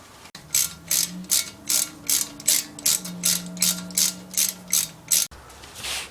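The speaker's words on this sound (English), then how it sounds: "Alright, we got the brake caliper mounting bolts out." Ratchet clicking in steady rapid strokes while loosening the brake caliper mounting bolts on a Jeep Wrangler during an axle seal job, about a dozen loud close bursts with a faint hum underneath.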